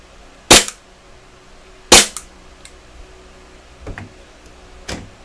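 An airsoft Glock 42 pistol fires four sharp cracks, two loud and close, two fainter ones near the end, with the slide locking open after the last round.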